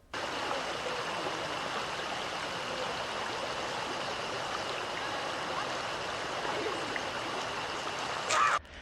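A river flows in a continuous close rushing stream while people splash about in it, the steady water sound broken by a brief louder splash near the end.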